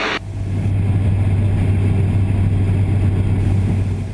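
Steady drone of an Aeroprakt A32 Vixxen light aircraft engine holding 5,200 RPM in level flight, a constant loud hum with a low tonal buzz and broad wind noise, unbroken throughout.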